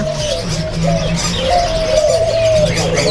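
A spotted dove in a bird shop coos in repeated low, soft phrases, close and clear, while other birds chirp faintly in the background.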